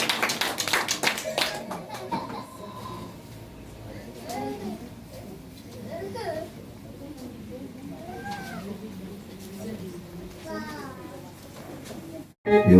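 Church congregation clapping during a Haitian Christian seminar, a burst of sharp claps up front that gives way to chattering voices, children and faint bird calls in a reverberant hall.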